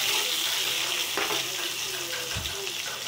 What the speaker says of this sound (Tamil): முட்டையை சேர்த்துருங்க. முட்டையை லைட்டாக வதக்கி கொடுப்போம்.